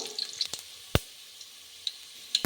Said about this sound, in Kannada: ಈರುಳ್ಳಿ ಸ್ವಲ್ಪ ಬೇಯಬೇಕು, ಬೆಂದು ಸ್ವಲ್ಪ ಕಪ್ಪಗಾಗಬೇಕು.